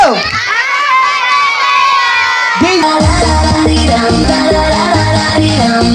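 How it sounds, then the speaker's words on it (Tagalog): Guests at Teo's first birthday party burst into loud cheering and shouting, children's voices prominent among the crowd, rising from a sustained shout into a busy, rhythmic swell of clapping and chanting that carries on throughout, close and energetic. "Palakpakan may kasamang sigaw for Teo"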